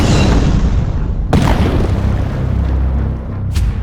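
A deep boom of a medieval trebuchet hurling stones at a castle wall, a loud rumbling impact with a second sharp thud partway through and a brief crack near the end, alone with no talk.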